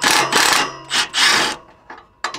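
A ratcheting wrench loosening 14 mm exhaust nuts on a 2022 Subaru WRX during a muffler delete, heard as several loud close bursts of fast ratchet clicking separated by brief pauses.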